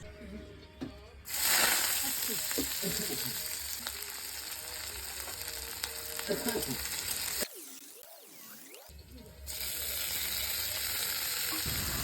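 Onions hit hot oil with panch phoron and dried chilli, starting a loud, steady sizzle with scraping stir sounds. A brief gap of tonal wavering noise interrupts before the frying hiss resumes.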